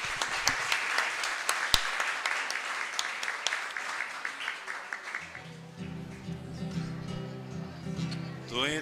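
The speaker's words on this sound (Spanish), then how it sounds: "Un aplauso para todas las madres." A church congregation applauding for mothers at the end of Mass, brisk clapping with distinct sharp claps for about five seconds, then fading as a sung hymn with music begins.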